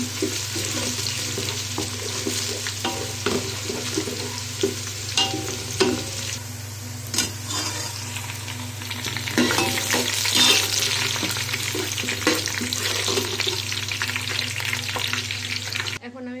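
Onions fry for beresta in a pan, sizzling steadily while a spoon stirs them in repeated scraping strokes, loud and close throughout.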